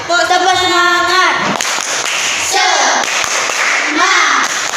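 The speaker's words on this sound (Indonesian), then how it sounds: "Nah, tepuk semangat yuk, tepuk semangat" Schoolchildren in an Indonesian classroom perform a rhythmic 'tepuk semangat' clapping chant, sharp group claps mixed with loud sung and shouted voices across the whole stretch.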